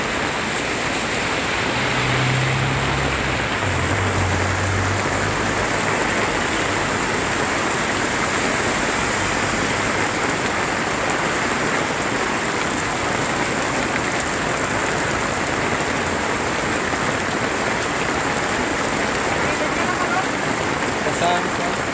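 Heavy rain pours down at Jaro Plaza, a dense, unbroken hiss of falling water that stays loud and even the whole time, with a low rumble of a passing vehicle near the start.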